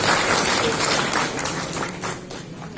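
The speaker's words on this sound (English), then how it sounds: "A big round of applause for all" An audience at a Lovely Professional University science congress in Punjab breaks into dense, loud applause that holds steady and thins slightly toward the close, with voices mixed into the crowd noise.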